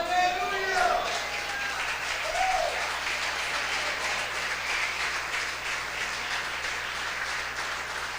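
A church congregation applauds during a sermon with steady, dense clapping that fills the room and continues at an even level throughout.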